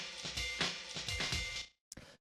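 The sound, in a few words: resonator effect on a drum break giving a metallic sound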